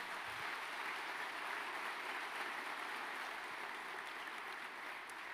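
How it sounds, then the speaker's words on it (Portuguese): A church audience claps at a talk by a speaker, a soft, steady wash of applause heard from a distance that continues evenly throughout. "Você pode dar uma salva de palmas para isso bem forte"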